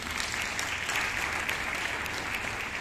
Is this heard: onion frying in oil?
no